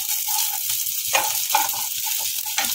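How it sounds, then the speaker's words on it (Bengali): Chopped green chillies fry in a pan for pav bhaji, a close, even sizzle broken by a few scraping stirs of the spoon against the pan. "আমি এখন কাঁচা লঙ্কা কুচিটা দিয়ে একটুখানি নেড়ে নেব"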